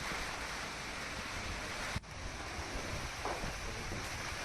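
Strong wind blowing during an unseasonal storm in Gujarat, kicking up clouds of dust as rain begins: a continuous, loud, broadband roar with gusty swells and a brief sharp dip midway, no voices.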